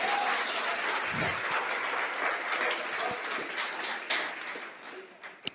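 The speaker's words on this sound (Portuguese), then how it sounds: "Você pode aplaudir ao Senhor?" A church congregation applauds together during a sermon, a dense wash of clapping that stays steady and loud before thinning out near the end.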